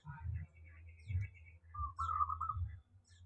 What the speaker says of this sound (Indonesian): Lur, ini ada perkutut unik.